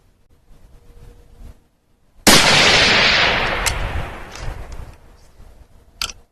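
A loud rifle shot fires a 7.62x39 case being fire-formed into 6.5 Grendel brass, a sharp blast followed by a long rolling echo that fades over several seconds, with a fainter crack near the end.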